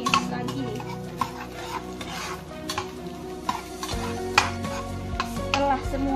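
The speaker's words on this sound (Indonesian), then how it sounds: "Masukkan wortelnya. Kemudian ditumis lagi." Carrots are stir-fried for fried rice with dried shrimp, with a steady sizzle in the pan and repeated scraping and clinking of a spatula against the pan, close and moderately loud.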